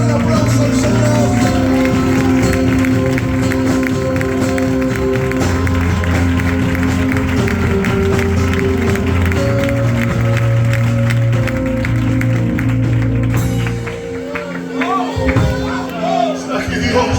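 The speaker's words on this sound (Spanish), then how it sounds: "Dale un aplauso al Señor." A church congregation claps together over loud worship music and singing, the applause blending into a dense, sustained wash that carries on before fading out at the end.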